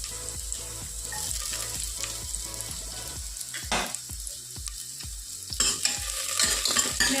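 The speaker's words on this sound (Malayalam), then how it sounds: "നമുക്ക് സോട്ട് ചെയ്ത് കൊടുക്കാം. അടുത്തതായിട്ട് ഇഞ്ചി ഇട്ട് കൊടുക്കാം." Garlic and ginger are sautéed in a hot frying pan, with sizzling oil and repeated rhythmic scrapes of a spoon stirring close up, no voices heard.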